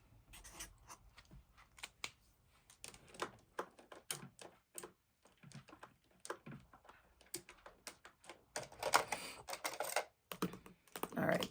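Writing on paper while filling in a savings challenge chart, heard as soft, rapid scratching and tapping strokes in irregular bursts, close and quiet, with brief pauses between marks.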